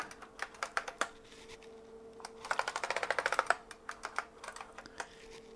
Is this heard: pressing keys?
yes